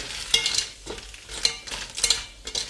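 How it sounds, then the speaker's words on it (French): A spoon stirs and scrapes through spring onions, mussels and cockles frying in butter in a pan, with a steady close sizzle and rhythmic scraping strokes, and no voices. "On peut rajouter les moules et les coques. On mélange un petit peu."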